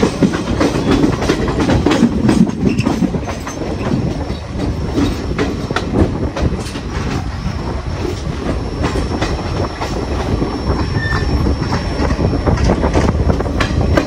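A train rolls alongside at Durg junction in India, a steady rumble of wagons with rhythmic clickety-clack and faint wheel squeals, close and continuous.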